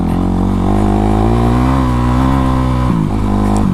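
A Honda CRF450 dirt bike runs steadily close by, its engine holding a loud, even drone with a brief dip in revs near the end.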